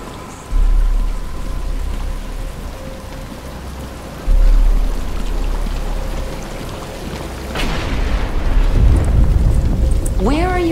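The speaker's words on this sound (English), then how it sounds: "But it's starting to rain." Rain falls steadily in a Batman: Arkham Asylum cutscene as a continuous hiss that swells in stages, with a deep rumble and characters talking over it.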